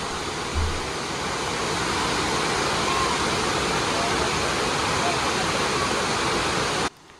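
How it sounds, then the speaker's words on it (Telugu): Steady, dense roar of the Silver Cascade waterfall near Kodaikanal, a continuous broadband rush of falling water heard close and loud, no talk over it, cutting off sharply at the end. "ఒక మంచి సిల్వర్ క్యాస్కేడ్ వాటర్ ఫాల్ అనేది కనిపిస్తుంది అనమాట."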